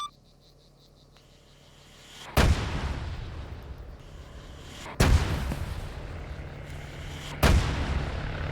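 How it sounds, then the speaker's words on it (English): Three heavy artillery impacts strike a target shack during a training fire mission, each a sudden loud boom rolling into a long rumbling decay, spaced about two and a half seconds apart over steady insect-like chirping. "Hermes, we got a fire mission for you."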